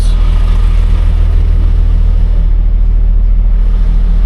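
A Scania delivery truck reversing, its engine holding a steady low diesel rumble close by, loud and constant throughout with no voices.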